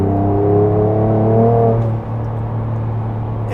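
A 2024 Ford Ranger Raptor with a valved exhaust revs its engine loudly and close up, a rising, then steadying drone heard alone with no talk over it.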